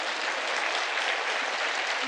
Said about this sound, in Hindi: भाई ताली बजानी है तो जोर से बजाना।